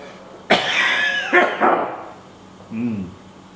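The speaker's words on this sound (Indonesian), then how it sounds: "dengan itu saya mau batuk" A couple of sharp coughs close to the microphone, followed by a brief throat sound and a short voiced grunt.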